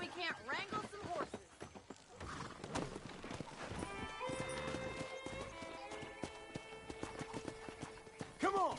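Horses trot with steady clip-clop hooves and neigh in the Western video game Red Dead Redemption, whinnies rising near the start and end over a sustained musical score and game sounds.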